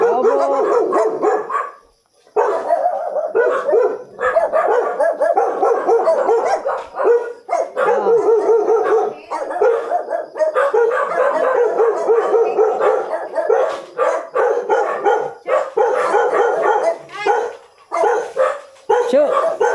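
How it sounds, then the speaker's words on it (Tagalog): A pet dog barks repeatedly and close up, mixing sharp barks with yips and brief whimpers in an uneven rhythm, separated by a few short pauses. "Aso."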